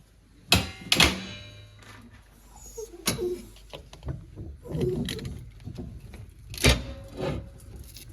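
The heavy cast-iron door of an oil-fired Aga stove being shut: a few sharp, close metallic thunks and clunks, spaced apart, with quieter handling and shuffling noises between them.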